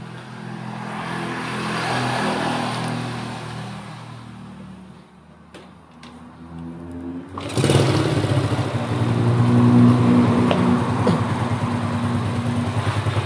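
A motorcycle engine runs after its carburetor was cleaned and tuned and its valves adjusted. It idles steadily up close, then revs up sharply and stays louder, with a clear humming tone.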